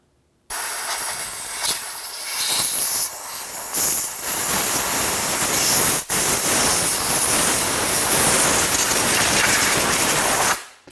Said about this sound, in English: we're going to use some compressed air. Blow that out.